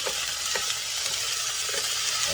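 Loud, steady sizzling from a hot frying pan as beef and broccoli are stir-fried, with intermittent scraping and tossing sounds and no talking.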